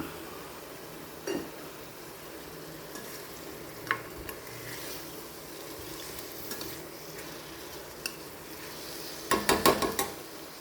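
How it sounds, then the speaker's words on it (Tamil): Blood stir-fry frying in a pan while being stirred, a steady low sizzle with a few soft scrapes and a brief cluster of clinks near the end. "அப்பப்போ பிரட்டி விட்டுக்கிட்டே இருக்கணும் இல்லைன்னா ஒரு மாதிரி கருகிடும்"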